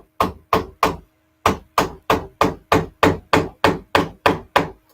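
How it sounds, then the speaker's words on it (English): A wooden barbecue skewer used as a dowel is hammered into foam pieces. Thirteen sharp, close knocks come as a quick group of three, a short pause, then ten more evenly spaced blows, with no talk. "let's reinforce these foam pieces together by putting in a dowel"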